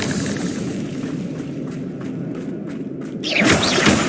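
Confringo fire spell cast in Hogwarts Legacy, a low thudding rumble with faint whooshes, then a louder burst of crackling, shattering impact near the end, with no voices.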